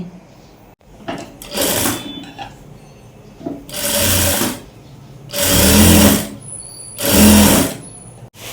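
A sewing machine stitches lace onto the folded wide edge of an organza blouse sleeve, running in four loud, close bursts of steady whirring with brief quiet pauses and handling clicks between them.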